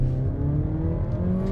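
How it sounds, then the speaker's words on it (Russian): A new Mazda 3 with a 1.5-litre engine drones at full throttle, a short burst of steady, strained engine tone with layered harmonics, heard from inside the car with no talk. "когда мы нажимаем на педаль газа в пол"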